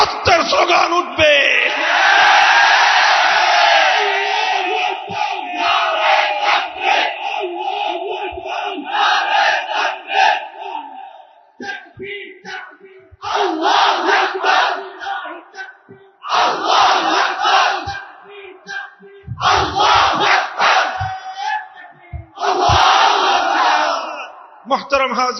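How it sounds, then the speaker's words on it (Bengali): A large crowd at an Islamic sermon gathering chants slogans of God's greatness in loud, roaring bursts. Surges of massed voices come in waves separated by brief lulls, close and overwhelming. "পুরা মাহফিলের মধ্যে আমার আল্লাহর বড়ত্বের স্লোগান উঠবে"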